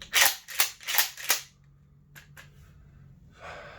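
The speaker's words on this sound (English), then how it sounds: "I'm going to cycle it." A Remington 870 Express Tactical shotgun is pumped, its action racked in four loud, close, rhythmic metallic strokes, followed by a few fainter clicks and handling noise.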